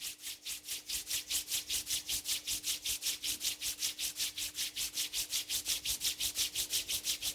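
Palms rubbing briskly together in a steady back-and-forth rhythm, roughly four strokes per second, close and fairly loud with a faint steady hum behind, during a yoga session.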